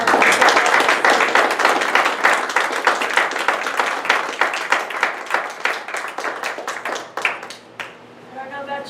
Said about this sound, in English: Can you join me with a huge round of applause